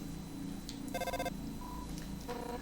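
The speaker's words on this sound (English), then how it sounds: "let me just give a little phone call." A cheerful electronic phone ring from the video game Undertale, set in Hotland, sounds in two short bursts of stacked tones over the game's background music, with a brief single tone between them.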